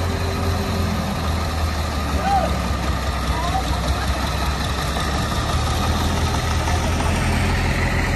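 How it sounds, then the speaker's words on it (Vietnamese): Steady low engine chug of a Vietnamese công nông farm truck hauling sand, cement or bricks to building sites, running continuously at a moderate distance with a voice talking over it. "những chiếc xe công lông một khối sẽ vận chuyển đến các công trình cho con ngõ nhỏ các bạn nhé"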